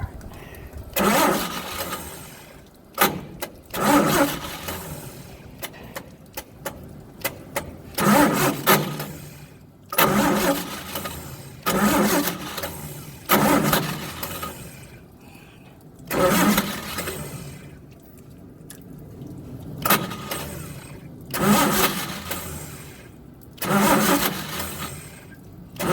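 An engine cranks in repeated bursts of starter whirring, each lasting a couple of seconds, separated by pauses, with brief sputters and catches that never settle into a steady idle.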